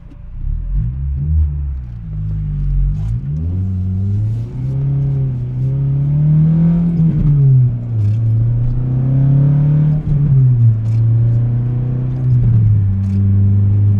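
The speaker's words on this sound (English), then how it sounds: "Probably gonna get some wheel spin on this merge." A car accelerates hard onto a merge with possible wheel spin, its engine droning loud and steady, pitch rising and falling with gear changes over a constant rumble.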